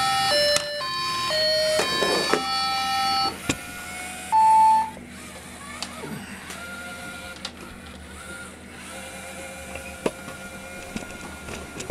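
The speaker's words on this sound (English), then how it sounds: "Wait for the tone." A Parallax Scribble S2 robot plays a series of clear electronic beep tones at reset, rising and stepping in pitch over the first few seconds, followed by quieter mechanical whirring and faint clicks.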